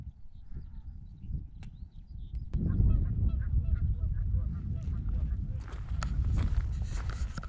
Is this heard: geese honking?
yes